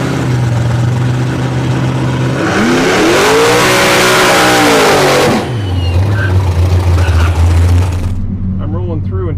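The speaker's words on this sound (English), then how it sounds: "Tesla Plaid versus Nova, Nitrous Nova." At a drag strip, a Tesla Plaid lines up against a nitrous-fed Chevy Nova, with a loud engine roaring and revving up and down in a long sweep before dropping back to a rumbling idle, close and heavy, with people talking over it.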